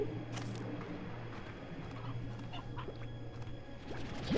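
Chickens in the Slime Rancher 2 video game make short, scattered clucking calls over a steady background game hum and ambient bustle.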